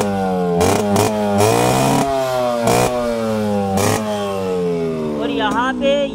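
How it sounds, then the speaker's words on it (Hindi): A fully restored Yamaha RX100 motorcycle with a six-hole silencer idles close and loud, then revs repeatedly in sharp bursts that rise and fall over a steady rattling engine note. "अब मैं आपको बाइक को स्टार्ट करके भी दिखा देता हूँ।"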